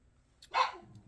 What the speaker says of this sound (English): the dog wants to go out the minute I start the video